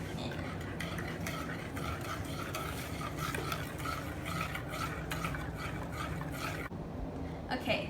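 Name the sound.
whisking baking soda and ground cinnamon into batter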